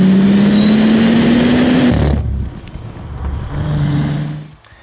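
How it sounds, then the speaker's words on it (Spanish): A 2020 Bentley Continental GT Convertible engine revs up loudly in a rising drone, then cuts off into a lower idle with a few crackling exhaust pops and a second, softer swell. "un sonido del motor más presente, incluidos unos maravillosos petardeos, algo artificiales y provocados"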